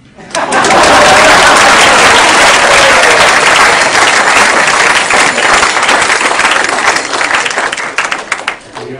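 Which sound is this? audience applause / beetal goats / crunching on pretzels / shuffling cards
audience applause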